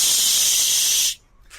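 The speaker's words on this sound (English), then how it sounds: "Coolant sort of starts spraying." Coolant sprays from a loose hose with a loud, steady hiss. The hiss cuts off abruptly, and a short faint burst follows.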